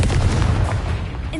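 A Confringo spell blast in Hogwarts Legacy during a duel, a loud booming burst up close that rumbles and fades over about a second.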